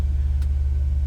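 A 2004 Chevrolet SSR roadster pickup's engine idling just after a cold start, a steady low rumble with a pulsing throb, close and loud, brief, no talk.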